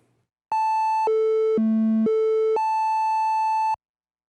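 A Behringer Model D analog synthesizer holds a bright, buzzy sustained tone that steps down in pitch twice and back up again, alone and loud for about three seconds, with no talk.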